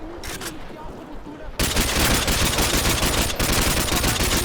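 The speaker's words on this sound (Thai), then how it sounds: "ยิงเหมือนไม่โดน แต่โดนนะจ๊ะ" Rapid automatic gunfire bursts loudly in a Call of Duty: Modern Warfare 2 firefight, starting quieter and then erupting into a dense, continuous fusillade.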